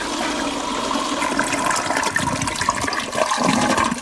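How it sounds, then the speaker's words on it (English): A toilet with a cracked U-bend flushes in a loud, steady rush of water that runs without a break for about four seconds. No voices are heard. "Don't flush it!"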